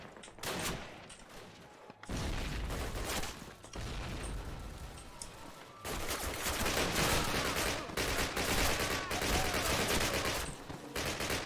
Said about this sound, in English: Just toss some grenades here and there.